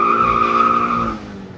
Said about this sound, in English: the big question is, will it do a burnout?